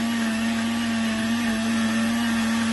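A Zepline ZP 068 countertop blender runs with a steady, loud motor hum and a strong whirring tone, continuous and close.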